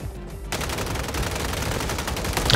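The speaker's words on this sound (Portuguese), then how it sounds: "Nossa, eu dei muita bala no maluco ali, Strine." Gunfire in Call of Duty, with weapons such as the FJX Horus and MCW. After a brief quiet moment, a sustained burst of rapid automatic fire starts and rattles on continuously and loudly.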